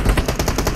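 Rapid machine-gun fire in a video game gunfight, loud and close, with rhythmic bursts of repeated shots running through the whole moment without any talk.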